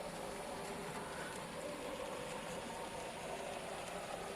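A Farish BR Class 04 DCC model locomotive, a tiny N-gauge shunter without traction tyres, runs with a steady, close motor whir and faint rattling as it strains along the track, with no talking.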